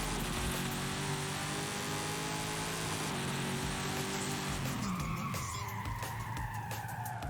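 Car in Forza Horizon 5 braking without ABS, the driver tapping the brakes, giving a continuous loud tire skid over engine drone, the pitch of the squeal shifting and breaking up near the end.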